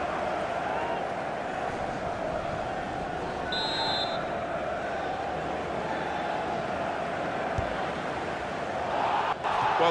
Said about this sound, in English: Well, the crowd love this.